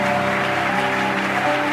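Church congregation applauding the Lord, a dense, steady wash of clapping from many hands filling the room at close range, with no break for the whole moment.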